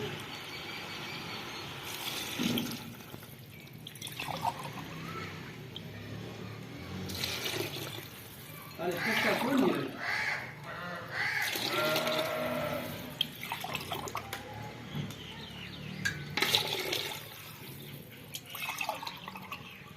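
Water is poured by the glassful into a pot of rice for vegetable pulao, four and a half glasses in all. It comes as repeated splashing, gurgling pours in several bursts with short pauses between them, close and moderately loud.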